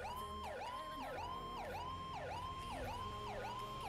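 Ambulance siren in a GSRP roleplay video game, a steady repeating wail rising and falling about twice a second, clear and continuous but faint, with no talk.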